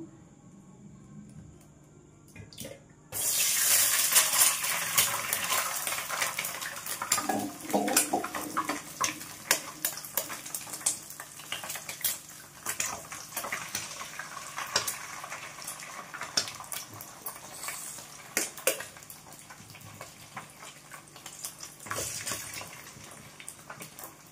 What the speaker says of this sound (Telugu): ఆయిల్ వేడెక్కిందండి. ఈ గుడ్లు అయితే ఇందులో వేసేస్తున్నాను.